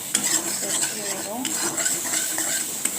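A spice paste with turmeric and green chilies is stirred and sautéed in a pan for a fish curry. Utensil scrapes and clinks sound up close over a soft, continuous sizzle, with no talking.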